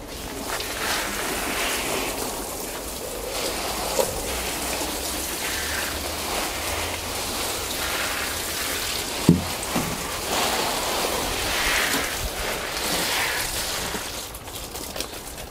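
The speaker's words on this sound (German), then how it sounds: "Ich habe hier jetzt die Gießkanne und jetzt muss ich drin noch ein wenig gießen" Plants in a Bio Green Tropical Island XL greenhouse watered from a watering can, giving a soft, continuous pattering of water falling on leaves and soil with a few light knocks, close by and without speech.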